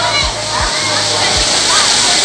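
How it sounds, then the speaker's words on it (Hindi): A small artificial waterfall inside a jungle-themed Laxmi Puja pandal in West Bengal gives a steady, loud rush of splashing water, with people talking over it and a voice nearby. "देखो यहाँ पे भी एक छोटा सा झरना है"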